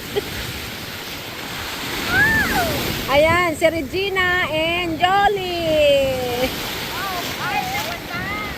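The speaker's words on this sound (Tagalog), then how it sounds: "Nagsasaya sa malakas na alon." Strong ocean waves surge and break on a beach at Panama City, Florida, a steady rushing wash under wind, with people talking and calling out over it.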